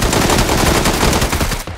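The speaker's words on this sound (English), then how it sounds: "Someone else just shot me from somewhere else." Rapid automatic gunfire in the PUBG battle royale video game, a loud dense burst of shots rattling continuously for under two seconds, close and unbroken, with no voices.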